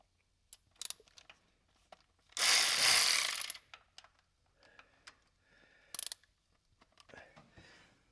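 Ratchet wrench loosening 13 mm bolts on a GM throttle body injection unit, scattered close clicks and ticks with one longer raspy burst of rapid pawl clatter midway.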